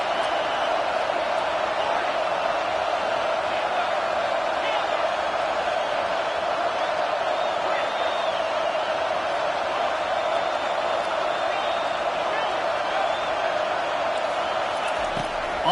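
Steady crowd roar fills a football stadium as fans try to keep the opposing team pinned deep in its own end, a constant dense wash of voices with faint whoops, under a commentator's talk.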